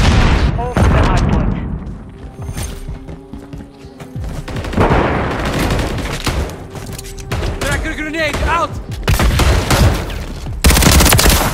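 Grenade explosions and rapid gunfire in Call of Duty: Modern Warfare III erupt loud and close in repeated bursts and booms, while shouted voices call out through the chaotic firefight.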